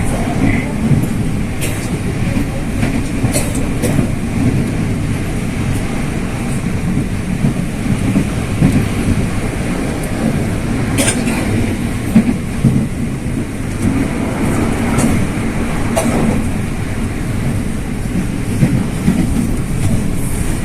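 An electric commuter train rumbles along continuously between Duren Kalibata and Bogor stations, with a heavy low roar, occasional clanks and rattles, heard from inside or close by.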